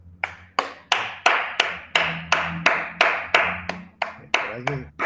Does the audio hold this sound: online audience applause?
yes